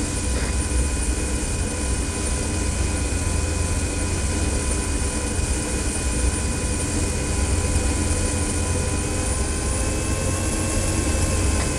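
A helicopter engine drones steadily in a video game set on an African operation, a constant loud whir with a faint rotor hum running unbroken from start to finish, with no talking.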